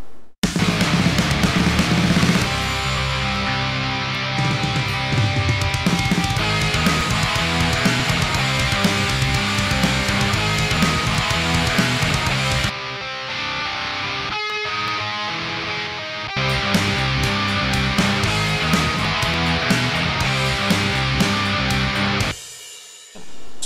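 Two guitar tracks sit up front in a dense, full band mix with drums and bass. The music plays continuously and loud, thins out briefly in the middle and then returns at full power.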